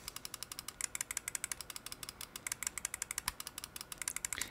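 Scroll wheel of a Roccat Kone XP Air wireless mouse being turned, a quiet run of fine, rapid ratcheting clicks in an even rhythm, close up, with no talking.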